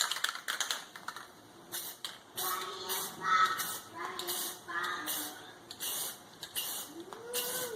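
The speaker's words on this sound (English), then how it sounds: "We're just using basic Rust-Oleum spray paint here" Rust-Oleum spray paint hissing from an aerosol can onto the hardware of a WEN 2350-watt inverter generator, in a series of short close bursts with brief pauses, alongside light rattling and handling noise.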